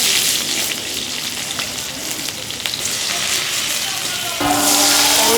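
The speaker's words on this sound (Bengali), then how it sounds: "লাউয়ের তরকারির জন্য তেল দেওয়া হলো পেঁয়াজ কাঁচামরিচ দিয়ে দেওয়া হলো" Onion and green chili frying in oil for a bottle gourd curry in a rural kitchen, giving a steady crackling sizzle throughout that grows louder and fuller near the end, with no talking.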